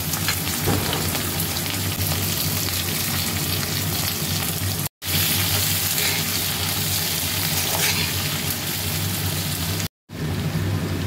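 Onions sizzle steadily in hot oil with bay leaf, cloves and cardamom as the base for a duck curry, a dense continuous frying hiss that runs close and loud throughout, broken only by two brief silent cuts.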